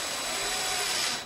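Power drill driving a 3-inch screw into a wall stud, a steady close whirring grind for about a second that cuts off abruptly.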